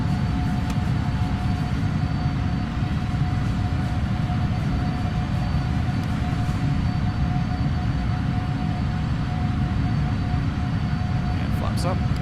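Airliner engines spool up and roar steadily during a takeoff roll in a flight simulator game, a loud continuous low rumble with a constant tone, while a voice talks over it.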